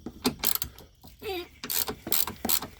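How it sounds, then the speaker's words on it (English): A 13mm socket on a ratchet turns a car ground bolt with rapid clicking bursts, close and loud, broken by a brief squeak and pauses between strokes. "I've got my 13mm on one of these ratcheting sticks here"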